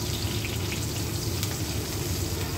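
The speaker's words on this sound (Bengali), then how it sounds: "এখন হচ্ছে পেঁয়াজটাকে ভালোভাবে ভেজে নিব।" Chopped onions fry in oil with bay leaf, cinnamon, cardamom and cloves, giving a dense, even sizzle with a low hum beneath, loud and close with no talking.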